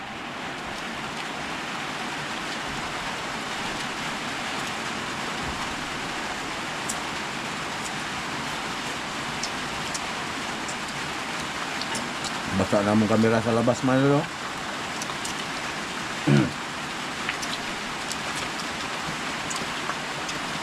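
Steady hiss of rain falling continuously throughout, with a brief spoken phrase partway through.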